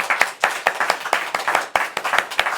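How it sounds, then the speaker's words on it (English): An audience claps in a quick, uneven rhythm of distinct, close hand claps, fairly loud and continuing throughout without any talking. "she really does deserve a round of applause"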